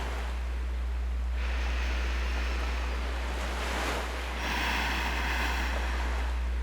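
Sea waves and a sea breeze give a steady, full rumble of surf with broad wind hiss swelling and easing, close and continuous, no voices.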